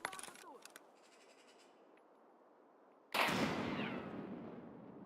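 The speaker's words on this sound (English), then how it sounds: "That was a crazy ass nade." A grenade detonates in Escape from Tarkov PvE, a sudden loud blast at mid-clip that decays into a long rumbling tail, after quieter clicks and faint game ambience.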